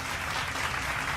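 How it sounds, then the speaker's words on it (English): A short, fairly faint burst of steady applause and clapping from an audience during a lively online show. "Can we get a nice round of applause for the real mythological?"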